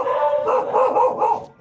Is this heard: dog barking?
yes